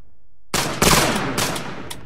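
Rifle gunfire erupts during a military platoon squad competition: a sharp initial crack followed by a dense burst of overlapping shots, with further distinct reports trailing off over two seconds, loud and close with no talking.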